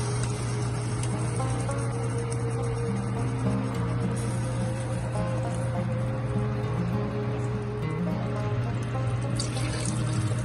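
Two cups of water pour steadily into a pot of rajma for several seconds, a continuous trickling wash under a low steady hum.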